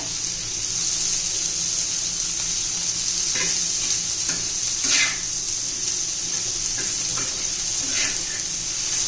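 Green chilies sautéing in a pan for Maharashtrian chili-onion thecha, a steady close sizzle broken by several short scraping stirs of a spatula, with no talk.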